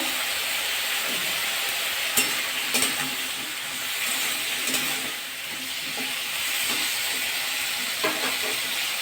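Green chilies and bay leaves frying in fish oil give a steady close sizzle, with occasional scrapes and clinks of a stirring utensil against the pan.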